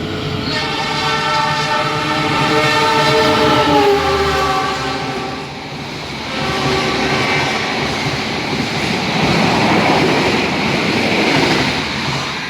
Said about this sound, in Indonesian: kereta api Taksaka akan segera menyusul kereta api Ranggajati.